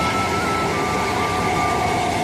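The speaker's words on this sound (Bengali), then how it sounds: "দেখো এই যে ট্রেন যাচ্ছে, এসি লোকাল নাকি নাকি নর্মাল ট্রেন" A suburban local train on the Sealdah–Bangaon line rumbles past close by in a loud, continuous roar, with a thin metallic whine riding over the clatter of the cars.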